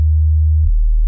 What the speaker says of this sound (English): just a pure 20 hertz tone.